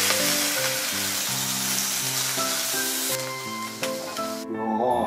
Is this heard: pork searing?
yes